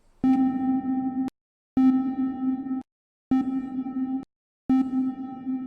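Four separate bursts of a steady synthesized tone are each processed through a reverb whose room size is being expanded step by step, and short silent gaps fall between the repeats, with no voice present.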